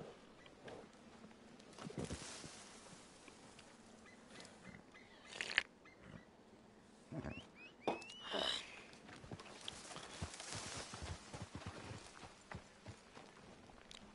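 Hooves of a called horse clip-clop in Red Dead Redemption 2, faint scattered steps with a few snorts, heard under quiet game ambience.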